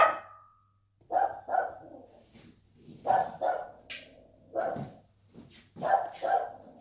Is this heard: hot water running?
no